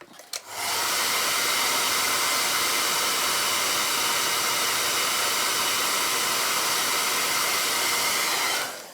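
A hair dryer switches on to dry paint on a miniature figure, then blows a loud, steady rushing hiss for several seconds before cutting off at the end.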